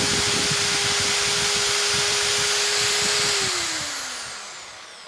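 A Bosch GSB 600 drill machine runs with its trigger locked, a loud, steady motor whine that holds at one pitch, then slowly winds down as it is released, with no talk.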